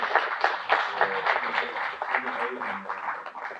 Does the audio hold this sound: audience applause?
yes